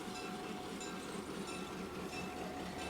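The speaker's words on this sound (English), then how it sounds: "as the train pulls in" Train pulling into a small town station on a clear morning, a steady broad rumble of rolling wheels and rail noise, moderately close, with no talk.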